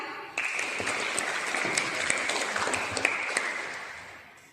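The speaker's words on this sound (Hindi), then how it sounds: "अंजलि के लिए तालियां।" Applause from a school audience at a Hindi Diwas event, greeting a Grade 8 student coming up to recite couplets; steady clapping from many hands runs throughout, moderately loud and without talk.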